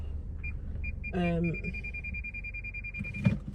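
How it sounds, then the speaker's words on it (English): A steady high electronic beep tone sounds through most of the clip, partly interrupted, with a brief voice and low background rumble. "Sorry, beeping."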